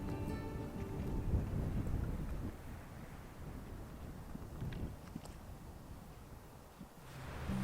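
Wind gusts across a steep hillside at the Dinorwic slate quarry, rumbling loudly against the microphone and then easing to a softer rushing before swelling again, with no talk.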